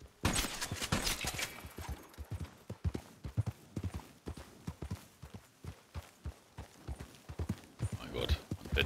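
Horse hoofbeats while riding in Red Dead Redemption 2 Online: a steady, rhythmic clip-clop of a trotting mount, fairly close, running throughout with a brief whinny-like flourish near the end.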